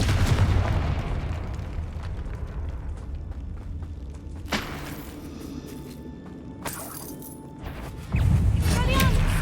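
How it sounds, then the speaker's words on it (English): Confringo fire spell blasts in the video game Hogwarts Legacy: a sustained rumbling roar with sharp booms near the middle and a heavy surge of low blast noise toward the end, fairly loud throughout. "Confringo."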